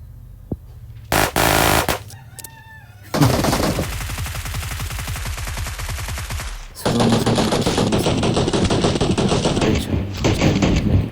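Loud bursts of automatic gunfire from the PUBG video game rattle in rapid repeated shots, with sharp single cracks and a brief blaring tone between long sustained volleys.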